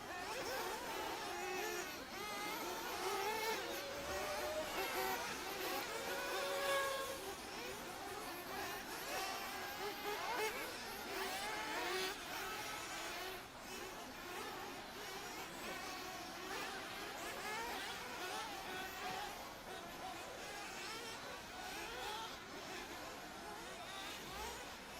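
Nitro RC buggies racing a championship heat, their high-pitched engines whining and warbling as they rise and fall, faint and distant throughout over a low background murmur.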